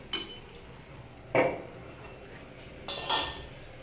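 A utensil scrapes and clinks against a pan while flat bean (shim) curry is stirred, in three brief metallic bursts separated by quiet gaps. Close and moderately loud, with no talking.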